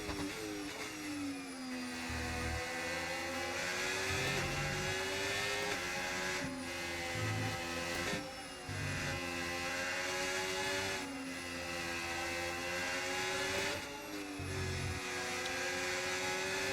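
A BMW 330 race car engine wails in a racing game at a Japan circuit, droning steadily at high revs with repeated upshifts and dips, loud and continuous, with no talking.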